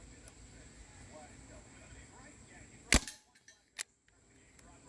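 A Crosman 1077W CO2 air rifle fires outdoors: one sharp, loud crack followed by a short pellet impact, then a second quieter crack, over a faint background.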